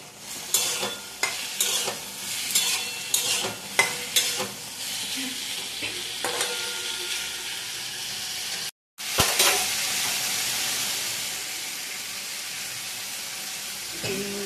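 Taro stolons with prawns stir-fry in a pan, with a loud steady sizzle and rapid, repeated spatula scrapes and knocks. A brief silent gap follows, then a sustained, even frying hiss.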